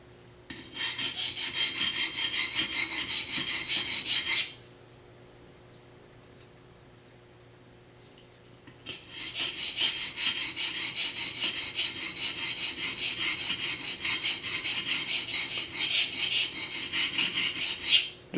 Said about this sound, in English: let you hear what the stone sounds like